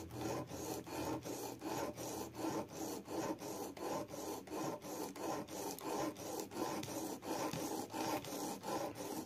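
A wood chisel sharpened on sandpaper at a 30-degree angle, a steady run of even back-and-forth rasping strokes, about two per second, close and fairly quiet with no talk.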